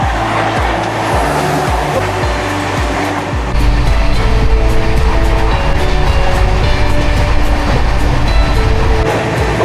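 Howrah Puri Shatabdi Express, train no. 12277, running at about 130 km/h. The interior carries a loud, steady roar with rhythmic rail-joint clicks early on, then a heavier continuous rumble.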